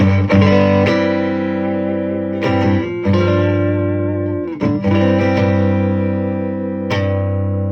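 A distorted electric guitar through a BOSS Nextone Artist amp on its 6V6 setting rings out with sustained chords, struck a few times and left to ring, played alone with a thick, overdriven tone.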